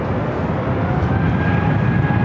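Frontier Airlines jet arriving at LAX from Denver, a steady, loud, broadband engine roar with a faint whine holding throughout, no voices over it.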